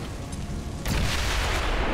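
A grenade blast in the video game XCOM 2 hits abruptly after a stretch of low rumbling, a loud broadband boom that swells and rolls on through the end.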